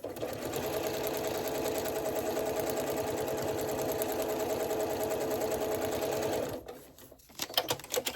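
Near, even drone of a sewing machine stitching a foundation paper pieced Wensleydale quilt block, running steadily for over six seconds before cutting off into brief rustling and handling noises.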